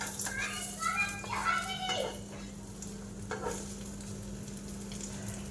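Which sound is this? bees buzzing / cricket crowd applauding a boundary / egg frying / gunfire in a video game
egg frying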